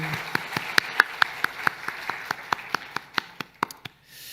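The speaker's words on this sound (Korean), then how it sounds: "하나님께 감사와 영광의 박수 올려드립니다" Clapping from a church congregation during a Sunday worship service comes as evenly spaced, distinct claps in a steady rhythm, fairly close, with a quiet room behind them.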